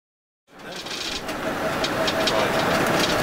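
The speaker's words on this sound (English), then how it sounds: "I can hear transmission wind a little bit." A Land Rover Defender with a 300tdi diesel engine drives along, its steady engine drone and road noise rising after a brief silence, with a faint transmission whine running through the sound.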